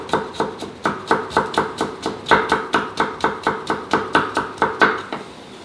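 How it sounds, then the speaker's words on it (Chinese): A chef chopping vegetables with a knife on a board, sharp, even knocks in a fast steady rhythm, about four per second, loud and close with no talk. "师傅切菜都不用看。"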